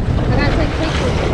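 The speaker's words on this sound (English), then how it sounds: "Super windy." Heavy wind buffets the microphone in a loud, low rumbling roar that fills the whole short moment, while fishing below a large Ohio River dam.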